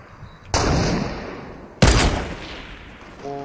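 Gunfire in the Fortnite Battle Royale video game: two loud, sharp shot bursts with ringing decay, spaced about a second apart, with no talk over them.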